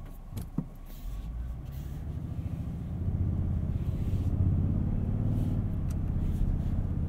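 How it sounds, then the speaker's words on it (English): A 2022 Toyota Tundra Limited 4WD CrewMax pickup heard from inside the cab while driving on a road, a low engine and road rumble that grows steadily louder as it accelerates, with a few faint clicks and no talking. "I think let's take this Tundra for a drive and give you guys an idea of what this thing is like on the road."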